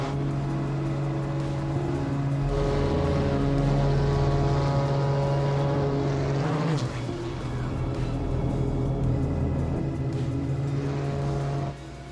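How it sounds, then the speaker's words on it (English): A propeller airplane takes off inside a four-lane road tunnel during a Red Bull stunt, its loud steady engine drone building and holding throughout and echoing off the enclosed walls. "There's an airplane taking off inside of a tunnel."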